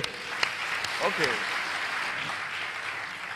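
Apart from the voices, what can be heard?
audience applauding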